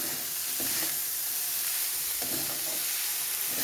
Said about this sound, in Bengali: যতক্ষণ না কাঁচা ভাবটা চলে যায়, লালচে রং আসে, ততক্ষণ আমি ভেজে যাব।